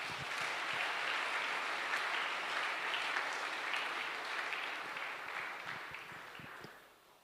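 A church congregation applauds together, a dense, steady wash of clapping that holds at a fairly loud level for several seconds before tapering off at the end.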